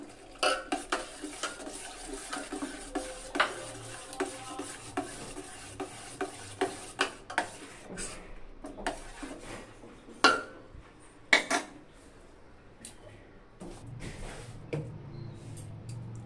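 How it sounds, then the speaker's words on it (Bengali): A spoon stirs milk thinned with a little hot water in a metal pot, making a string of distinct clinks and scrapes at an uneven pace, close and clear with no talk. "এবার এই দুধের ভিতর আমি গরম জল অল্প দিয়ে একটু গুলিয়ে নিব।"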